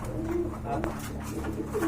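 A Rajgolla pigeon coos close by in a bird-selling collection, soft low throaty calls repeating over faint background noise, with brief murmurs of other birds around.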